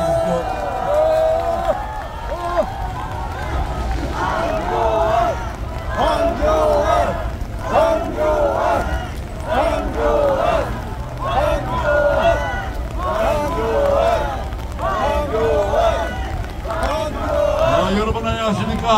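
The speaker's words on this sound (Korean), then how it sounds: "여러분 뜨거운 박수를 맞아주십시오" A crowd at a South Korean presidential campaign rally applauds and cheers, with loud, rhythmic bursts of clapping and shouts that keep going throughout, mixed with voices talking close by.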